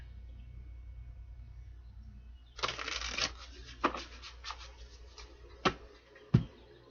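Cards riffled and shuffled in a quick burst, followed by several sharp, separate snaps as the deck is squared and bridged, close by.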